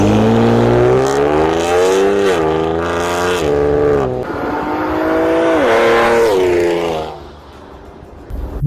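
A Ford Explorer EcoBoost with a stage 3 tune revs hard and loud close by, its engine note climbing and falling through several sustained pulls before dropping away near the end.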